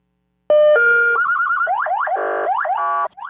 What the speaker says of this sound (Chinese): 警报器一直弹，车顶阁警示灯咧驶